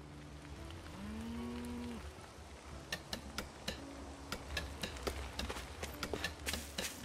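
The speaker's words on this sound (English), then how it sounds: "Hey, cow." A cow in Tales of Arise gives one long, low moo near the start over a village ambience, followed by a series of light ticking or tapping footstep-like clicks with no talk.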